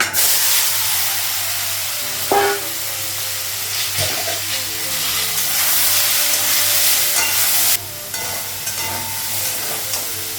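Soybean chunks and potatoes fry in a hot pan for a Bengali soybean-potato curry, giving a loud, steady broadband sizzle with a few stirring scrapes and knocks, uninterrupted by voices.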